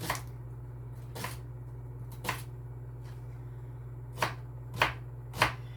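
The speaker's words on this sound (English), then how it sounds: "Shallots are a fun little onion to cut up, that's for sure." A knife chopping shallots on a cutting board: a handful of sharp, separate cuts with uneven pauses, moderately close, over a low steady hum.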